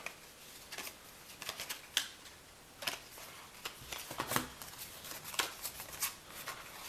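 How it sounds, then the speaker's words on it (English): A stack of racing trading cards being shuffled by hand, with crisp, irregular riffles and snaps of card stock at close range, no talk over them. "I'm just gonna shuffle through this last little stack, see if there's anything to point out"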